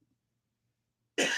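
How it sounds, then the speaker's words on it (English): A single harsh cough bursts out close by after a stretch of near silence. "We cough around here."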